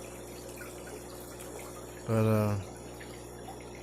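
An aquarium filter keeps up a soft, steady trickle and hiss of running water in the background, briefly covered by a spoken word partway through.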